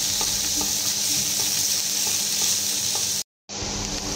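Onion and garlic sizzle steadily in hot oil while being sautéed for chicken sopas. The frying hiss is close and continuous and breaks off for a brief moment near the end.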